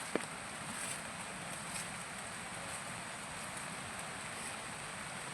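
Steady rain pours down amid green countryside near a dam, a dense, even hiss with no breaks, moderately faint and constant throughout.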